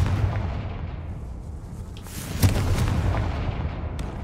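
Confringo spell blast in Hogwarts Legacy: a sharp fiery burst cracks out midway over a dense rumbling battle-like background, loud and brief against the steady noise.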